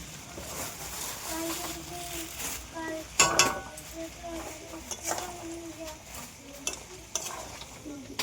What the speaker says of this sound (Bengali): লো ফ্লেমে আস্তে আস্তে নাড়তে থাকবো, চিনিটা যাতে গলে।